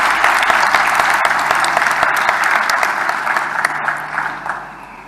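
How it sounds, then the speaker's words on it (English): Applause from an audience at an election results event for the electoral commission CEO, dense crisp clapping that holds steady then thins and fades toward the end, with scattered individual claps standing out. "this is just about the only time when we can give the CEO a"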